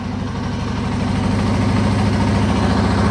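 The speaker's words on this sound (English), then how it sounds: "I suppose I gotta leave it on to charge the battery a bit." A Yamaha TW200 motorcycle engine with a new carburetor idles steadily nearby, a loud, even low thumping pulse that holds without a break throughout and has no talking over it.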